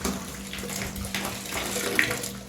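Split AC filters from a Blue Star unit are rinsed at home under running water, a steady splashing gush with no voices.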